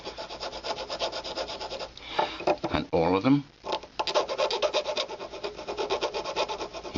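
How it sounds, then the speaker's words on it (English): Steady rasping strokes of a number 4 triangular file on a metal claw setting, with a short pause where a voice speaks briefly before the rhythmic scraping resumes close up. "You can use your number 4 triangular file, resting it on your thumb as a tool rest."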